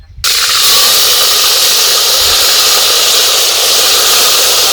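Ground onion-tomato paste hits hot oil for a village-style Tirunelveli chicken curry, a sudden loud sizzle that bursts on and then holds as a dense, steady hiss, close and with no voices.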